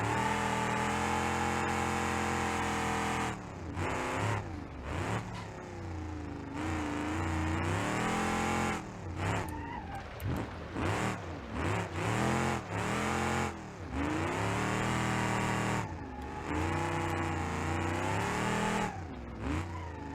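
An old vehicle in BeamNG.Drive revs hard on a hot lap, its engine note climbing and falling repeatedly through gear changes, loud and continuous with brief dips between pulls.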